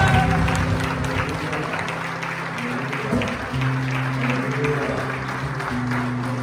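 A crowd claps steadily in a large church during a Sunday worship service, with sustained applause under background music and voices.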